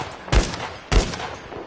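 Two loud, sharp sniper rifle shots from the Battle Warriors video game, spaced about half a second apart, each a broadband crack with a short decaying tail, no talk over them.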